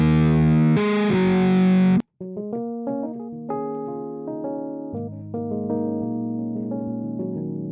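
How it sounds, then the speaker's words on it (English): A Fender Stratocaster electric guitar dry sample played through the AmpliTube plug-in, with a sustained strummed chord followed by a series of clean, distinct picked notes and chords. "This is just a Strat, Fender Strat."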